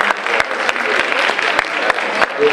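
A school audience at a high school Black History program claps for a former principal, loud and close, with a few sharp individual claps standing out over the steady applause.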